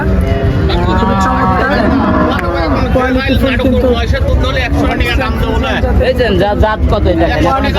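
A Holstein Friesian dairy cow moos loudly and repeatedly at close range, with a low, drawn-out bellowing call over murmuring crowd chatter and background noise at a cattle market.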